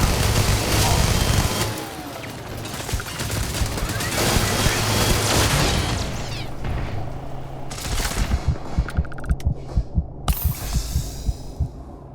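Gunfire in the space shooter game Starfield, a dense rumbling barrage early on giving way to a rapid train of sharp, loud shots toward the end, with low droning hum underneath.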